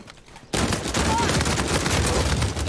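Blind gunfire in Uncharted 4 multiplayer breaks out after a brief quieter moment into a loud, sustained burst of rapid shots that continues without pause to the end.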